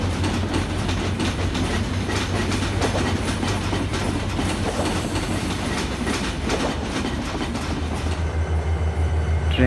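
The Sundarban Express passenger train rolls past close by, a loud continuous rumble with rhythmic clickety-clack of wheels over rail joints and a steady low drone throughout.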